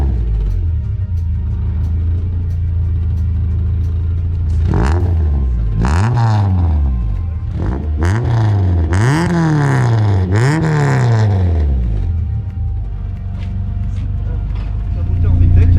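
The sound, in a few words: Honda VTEC engine revving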